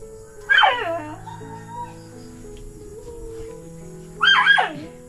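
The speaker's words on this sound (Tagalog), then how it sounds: "Yung aso ang sumasagot na." A dog gives two short, high yelping howls a few seconds apart, near and fairly loud, with a quieter sustained tonal background between them.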